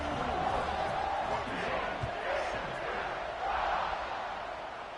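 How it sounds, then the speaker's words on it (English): Stadium crowd in the video game College Football 26 buzzing after a score, a continuous dense roar of many voices swelling and easing over several seconds. "this crowd is buzzing after that last score"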